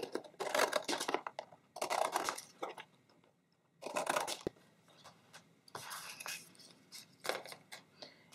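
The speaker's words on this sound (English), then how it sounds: "But I'm going to cut off these flaps." Thick cardboard box flaps being cut off, with several separate bursts of rough scraping and crunching cuts separated by short pauses, close and fairly quiet, with no speech.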